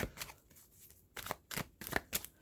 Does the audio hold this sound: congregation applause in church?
no